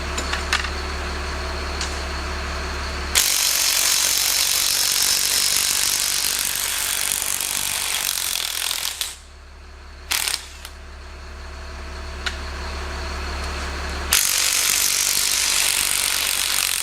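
A ratchet tightens a nut on a Caterpillar 3306 diesel engine during a head gasket repair, giving dense, steady mechanical clicking for roughly eleven seconds with a brief pause midway, close and loud, with no talking.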